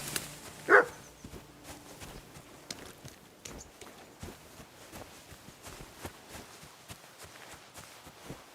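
Dog barking in the medieval role-playing video game Kingdom Come: Deliverance II, one sharp bark early on, then soft rhythmic footsteps and hoof-like clopping continuing underneath at low level.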